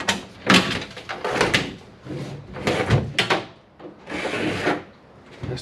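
A workshop or bathroom door being opened and closed, with repeated wooden knocks, scrapes and rubbing in several close, loud bursts and no talking.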